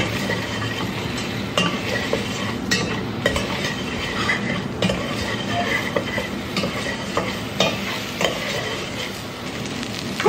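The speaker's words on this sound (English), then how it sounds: "Then I'm going to pop it on the hob and give it a little cook up." Hot sauce made with garlic powder cooks on a hob, a steady broadband sizzle and bubble with occasional stir clicks, loud and continuous, with no talking.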